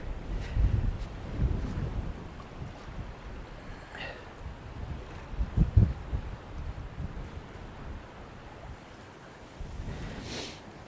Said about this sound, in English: the wind, howling wind like this, it's really cold